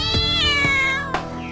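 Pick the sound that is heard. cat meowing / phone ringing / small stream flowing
cat meowing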